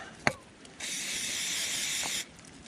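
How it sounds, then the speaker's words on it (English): Cutting spray hisses from an aerosol can in one steady burst of about a second and a half onto a stone-cutting tool during a log cabin stone wall build, framed by a sharp click before and a soft tap after. "apply your cutting oil or cutting spray constantly, because that helps a lot"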